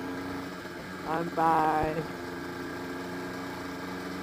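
A Honda NSR 250 MC28 two-stroke motorcycle engine idles with a steady buzzing drone, briefly swelling louder near the middle, under a voice.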